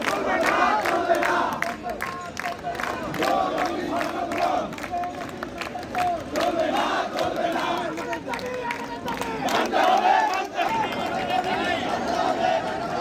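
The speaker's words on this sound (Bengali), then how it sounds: "তাদের মুখে একটাই স্লোগান ছিল, আমাদের দাবি মানতে হবে" Large crowd of protesters rallying outside the RAJUK zonal office in Uttara, voices massed in loud continuous chanting and shouting that carries throughout without a break.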